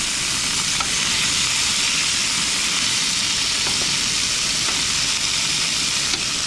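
Sausages frying over a camp stove, a loud, steady, close sizzle with a crackling hiss that carries on unbroken with no talking.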